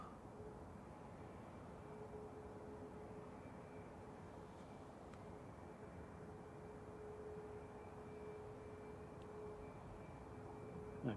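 A distant Eurowings aircraft engine at Manchester Airport hums steadily with a faint sustained whine, low and continuous in the background.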